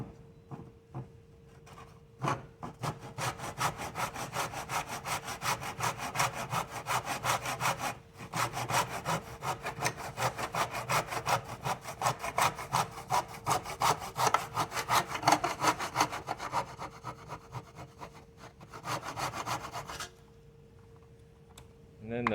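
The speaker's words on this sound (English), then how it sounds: "I'm going to pull my saw back." A hand saw cuts through wood pieces for a phone holder, a long run of rapid back-and-forth rasping strokes with a brief pause near the middle, close and steady.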